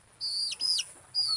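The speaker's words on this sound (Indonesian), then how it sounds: "Burung apa toh ini toh? Kutilang mas." A caged sooty-headed bulbul at a transmigrant settlement home on Simeulue, Aceh gives a few short, bright whistled calls close by, with quiet pauses between them.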